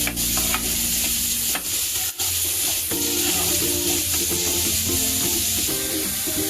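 Chopped onion sizzles steadily in a hot pan, cooking until browned. A spoon scrapes and stirs it now and then, and the crackle stays constant and close throughout.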